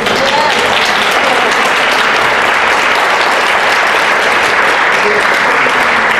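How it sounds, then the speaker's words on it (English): Loud, sustained applause from a church congregation fills the space, thick continuous clapping with a few brief voices mixed in, steady from start to finish. "the applause is, of course, for the Lord."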